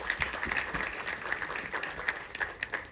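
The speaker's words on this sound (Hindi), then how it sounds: "इसलिए एक बार बंदा के लिए एक बार जोरदार ताली चाहिए" Steady applause from an audience at a film trailer launch event, many hands clapping continuously at a moderate distance with faint crowd noise beneath.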